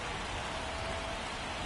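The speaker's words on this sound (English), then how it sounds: "the field's not going to be able to hold up if the rain gets any worse than this" Steady, dense rain hissing down over a baseball field in a video game, a continuous broadband wash with no breaks or voices.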